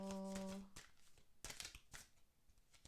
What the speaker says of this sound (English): Let me do one more shuffle.